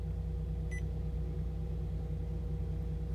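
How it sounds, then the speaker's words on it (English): A single short electronic beep from an air-conditioning remote aboard a 2018 Sea Ray 340 Sundancer cruiser, faint over a steady low mechanical hum in the cabin. "I don't know if you heard that beep or not."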